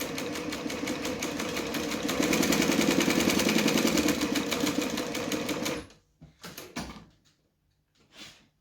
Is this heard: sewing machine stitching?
yes